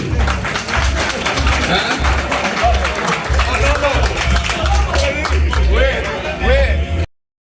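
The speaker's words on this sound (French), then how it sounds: "Ça s'applaudit." An audience applauds at an awards ceremony in Benin honouring company talents, dense steady clapping filling the room for about seven seconds, with cheering and voices mixed in under a low rumbling music bed before it cuts off.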